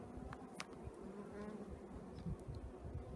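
Honeybees buzzing inside an opened hive with workers and drones, a dense continuous hum close to the microphone with individual bees flying past.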